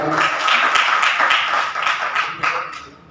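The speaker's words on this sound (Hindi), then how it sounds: "उनके लिए भी खूब तालियां बजाई जाए माशाल्लाह।" An audience applauds at a human rights seminar in Pakistan, producing dense, steady clapping that holds for several seconds and then thins slightly toward the end.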